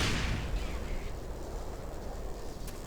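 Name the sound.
rocket explosion in Black Mesa video game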